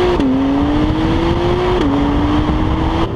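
A 2017 Acura NSX engine drones with a steady tonal intake note inside the cabin, stepping down in pitch twice as gears change, loud and continuous with no talking.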